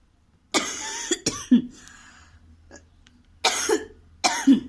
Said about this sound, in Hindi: सॉरी दोस्तों, खांसी से गला खराब है